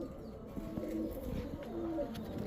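A slender cream-eyed male pigeon gives soft, low cooing notes, a few short murmured calls against a quiet, faintly hissing background.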